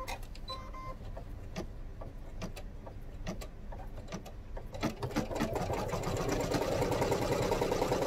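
A sewing machine runs in close, steady bursts while stitching a fabric bag, the motor whirring with rapid needle clatter that swells into a louder continuous run near the end, with no talk.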